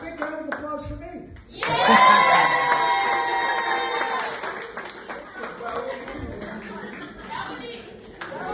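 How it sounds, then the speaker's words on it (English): Loud crowd applause with cheering bursts in at once, then slowly thins into scattered clapping and chatter over several seconds. "So a big round of applause for me."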